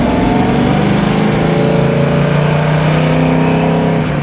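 An old Cuda street rod's engine idles and revs loudly and close, a deep continuous rumble with rising and falling pitch at a street rod association cruise, no talking.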